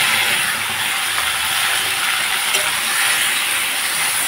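Spice paste hits a pan of browned potatoes and sizzles, a loud, even frying hiss that runs steadily throughout with faint stirring underneath.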